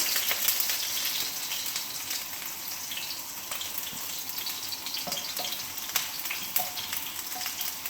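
Chopped small onions frying with mustard seeds in hot oil, a steady dense sizzle with faint clinks and stirring taps scattered through it, no voices.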